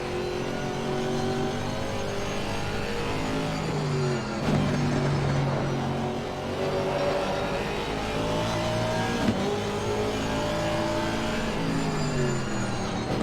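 An Aston Martin race car in Assetto Corsa Competizione at Brands Hatch during an endurance race, engine droning loudly and steadily as it accelerates and shifts through gears, pitch rising and falling, with no talk.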